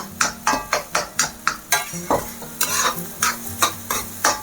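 Egg noodles are stirred and tossed in a large pan over high flame, with a rhythmic run of sharp scraping clatters, about two a second, over a sizzling hiss, close and alone.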